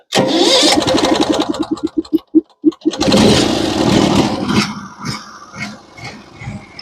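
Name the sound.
Norwood sawmill engine starting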